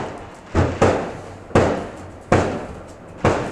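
New Year's fireworks and firecrackers go off near a farm: five loud, sharp bangs at uneven intervals, each decaying with a short echoing rumble against a quieter background.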